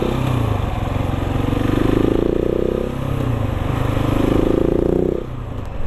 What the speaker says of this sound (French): c'est de faire chanter le moteur. Le petit brap brap comme ça, on se prend au jeu.